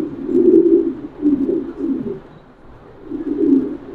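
Lahori pigeons coo at a pigeon farm in soft, throaty rolling phrases, with three or four swelling bursts and a brief lull between them, close by and with no talk.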